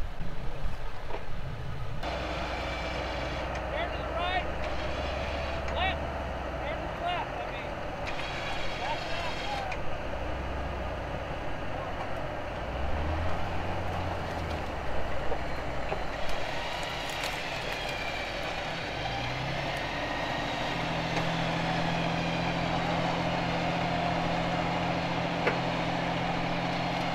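Ford Excursion SUV engine rumbling and revving as the truck backs out during an off-road recovery alongside a Taco and Jeep, a steady low drone with shifting pitch while people talk over it.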